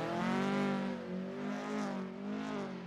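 A racing car with a Japanese-built engine revs steadily at high pitch, a continuous strong whine rising and falling slightly over a few seconds, close and loud, during a slalom event at Lodosa.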